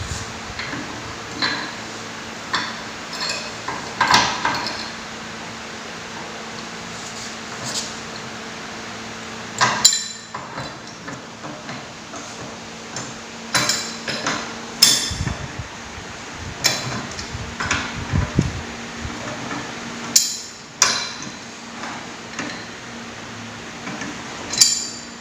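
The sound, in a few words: loosening a track end bolt with a pipe wrench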